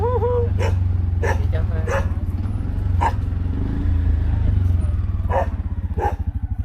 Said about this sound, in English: Here's a dog with a ridge on its back. Looks like a Phu Quoc ridgeback.